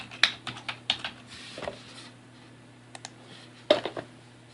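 Bursts of computer keyboard typing while naming a script file, quick clustered keystrokes separated by pauses, fairly close and crisp over a faint steady hum, no voices.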